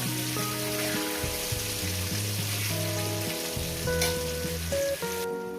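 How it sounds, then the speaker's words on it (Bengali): Potatoes fry in hot oil, a steady crackling sizzle held close throughout, with a faint stir partway and no voices. "আলুগুলো আমি সুন্দর করে ভেজে নিয়েছি"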